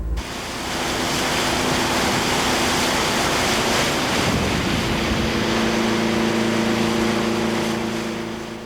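Strong river current on the St. Clair River beside Fawn Island pushes against the face of a ship's hull, a steady, loud rushing wash with a low continuous rumble and no talking.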